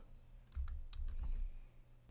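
Typing on a computer keyboard while entering a study search, a quick run of close key clicks in two or three bursts over about two seconds, quiet and alone with no speech.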